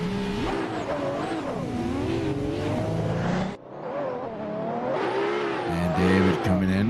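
A drift car's engine screams and revs hard during a competition run at a Finnish drift event, with wavering high-rpm tones, a brief throttle lift and cut, then renewed revving with possible tire squeal.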